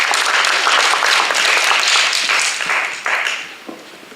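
An audience at an international therapeutic horseback riding symposium applauds to welcome a presenter, steady dense clapping that fades out over the last second.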